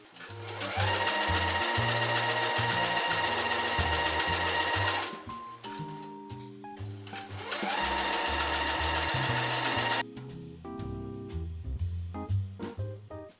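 A domestic sewing machine stitches a fabric dress sleeve near a folded edge in rapid, steady bursts, pausing briefly between runs, with the motor's whir and needle clatter close and clear.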